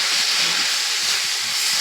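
Loud, steady steam hiss rising from a pot of khesari (grass pea) greens as the lid comes off, a continuous rushing noise with no talk.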